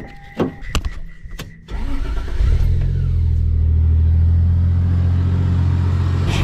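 A 1JZ engine with a custom exhaust cranks over after a few clicks and knocks, catches, and settles into a steady, low rumbling idle, close and moderately loud.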